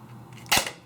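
A single sharp snap from an airsoft gun firing on semi-auto, one close, crisp crack over a quiet background hum.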